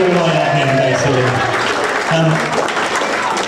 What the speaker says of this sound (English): A quick round of applause for Rob.